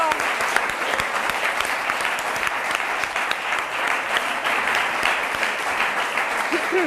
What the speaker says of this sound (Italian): a questi va questo applauso da parte degli studenti